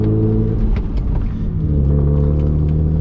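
A straight-piped BMW E36 with an M50 engine, loud and close, rumbling with a deep steady drone and a brief rise in revs, filling the whole stretch without any talking.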